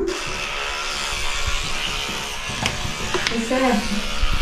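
An electric rotating toothbrush runs with a steady close buzz, and a child and an adult talk over it.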